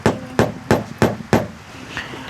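A hammer strikes wood in storm repairs on a damaged house, five sharp, evenly spaced blows in a quick rhythm, then a couple of fainter taps.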